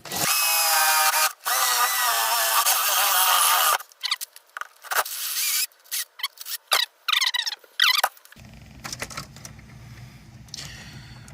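A power drill bores a hole in a third-generation Camaro during an LS engine swap. There is a long, loud whine at first, then a series of short bursts of drilling with squealing pitch changes, close up, with no talk.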